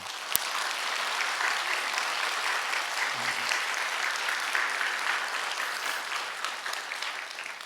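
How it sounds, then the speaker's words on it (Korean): A church congregation at a dawn prayer gathering applauds warmly, a dense, steady wash of many hands clapping that continues evenly for several seconds, heard from within the room. "여러분 따뜻한 마음으로 박수 한번 해주세요."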